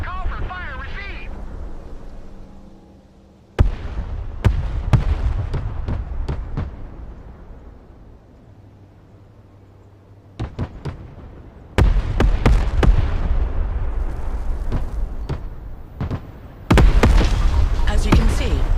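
An artillery fire mission in Broken Arrow: scattered booming impacts and bursts of explosions, some in quick clusters, building into heavy continuous detonations near the end.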